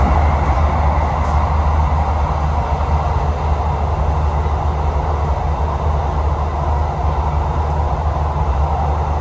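Inside the KA Lodaya economy train as it runs through the Ijo tunnel: a loud, steady rumble and roar from the carriage, constant and enclosed, with no voices.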